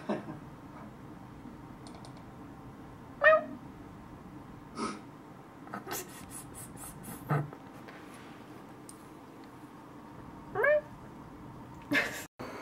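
A cat meows several times in short, separate cries, with soft clicks and faint rustling in a quiet room between them.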